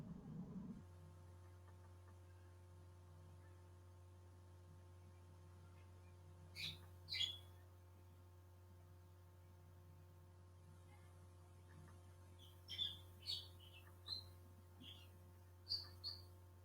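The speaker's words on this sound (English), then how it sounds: "maybe you can hear some sounds around you, the birds outside" Birds chirping outside during a quiet indoor session, scattered short calls in small clusters, distant and faint over a steady electrical hum.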